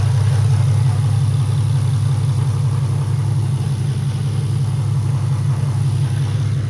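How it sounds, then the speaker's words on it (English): An Infiniti G35 engine idles with stock intakes, a steady low, even hum and rumble heard close and constant, with no talking. "Stock boys. Sounds a lot quieter on idle,"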